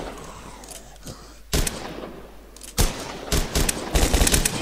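Bursts of gunfire in the video game Rust, scattered sharp shots with a louder volley midway and rapid clustered fire near the end, over a steady low background.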